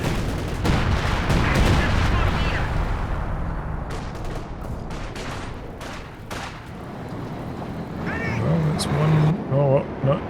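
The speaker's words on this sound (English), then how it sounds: "Some artillery on the Zis, it's dodging it though." In a Company of Heroes 2 match, artillery shells and gunfire land in repeated sharp booms and bursts, loud and busy, beneath continuous commentary talk.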